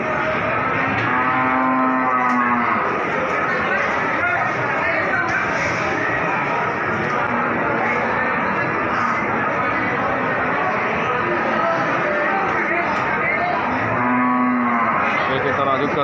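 Cattle at the Wirosari livestock market in Grobogan, where pregnant cows are on sale, moo loudly and close by near the start and again near the end, over steady market crowd noise and talk.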